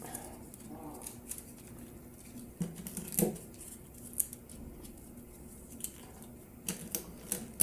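Paper and tape handled up close while a rolled, flattened paper strip is taped for a paper pistol model, giving soft crinkles, sticky tape rips and scattered sharp little taps, faint and intermittent.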